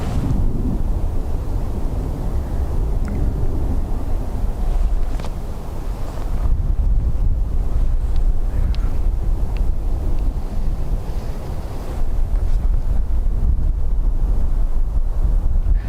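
Strong wind buffets across an open airfield at Dublin Airport, a loud, continuous rumbling roar with gusty surges and no clear voices.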